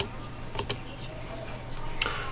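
Mouse clicks while opening a shortlink on a free crypto-earning website, a few sharp soft clicks over a steady low room hum, close and fairly quiet.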